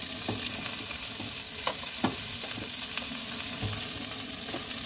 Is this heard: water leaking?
no